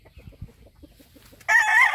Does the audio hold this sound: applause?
no